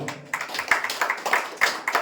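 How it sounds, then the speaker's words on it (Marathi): Audience clapping at a bhajan event at a temple, a burst of loud, ragged applause from many hands, close and continuous throughout. "एकदा जोरदार टाळ्या सगळ्यांनी वाजवा."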